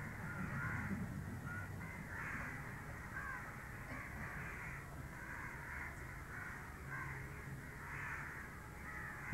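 Crows caw repeatedly in the distance, with steady calls spread across the whole stretch over a constant outdoor background hum.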